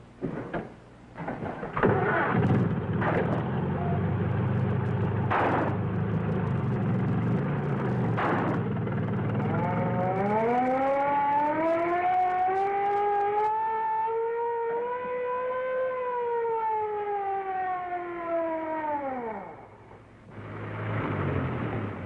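An old-time radio drama car effect: a rough, rumbling engine starts up with a rising whine that holds steady and then falls away, loud and close throughout, with no voices over it.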